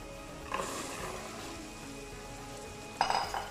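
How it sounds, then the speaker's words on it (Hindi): Spice masala for Turkish-style lobia roasts in a pan with a low, steady sizzle, marked by two short bursts of stirring scrapes near the start and end, close and fairly quiet without speech. "इस मसाले को हम भून लेंगे"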